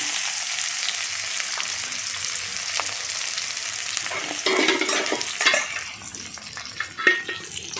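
Cumin seeds and chopped onion frying in hot oil with dried red chillies, a steady close sizzle broken by stirring scrapes and clinks of a spoon against the pan.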